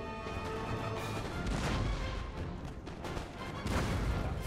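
Massed musket volleys in Napoleon: Total War rolling together as a loud, dense crackle of gunfire over a constant battle din, swelling twice into heavier bursts with no talk.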